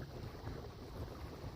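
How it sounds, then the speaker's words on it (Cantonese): Strong wind blows hard at a seaside pier on Kiu Tsui island, a dense, steady roar buffeting the microphone throughout with no voices. "今日就勁大風，真係吹到頭都甩埋啊"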